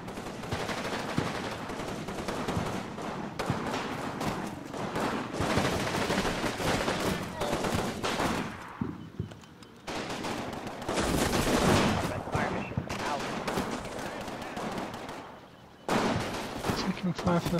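Bursts of gunfire and machine-gun fusillades crackle almost continuously in the Combat Mission war game at Vierville, loud and dense with brief lulls, as a voice talks over the battle.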